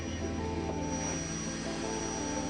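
Dassault Rafale fighter jet engines of the French military roar in a steady, loud, continuous drone with a strong tonal whine, close and unbroken throughout.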